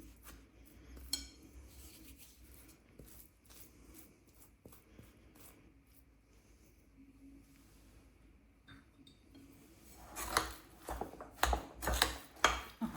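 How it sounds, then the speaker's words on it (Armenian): A spoon stirring tiramisu truffle mixture in a bowl, with faint soft scraping that builds into louder, rhythmic clinks and taps against the bowl toward the end. "Գդալով ավելի հեշտ է խառնվում ու ավելի արագ։"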